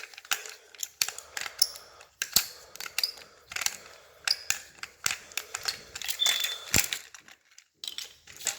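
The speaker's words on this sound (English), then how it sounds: "So I'm just unscrewing it and put some AAA batteries in." A small screw is unscrewed from a toy steam locomotive's battery cover, then AAA batteries are inserted, giving close, irregular plastic clicks, scrapes and light rattling taps with brief quiet gaps.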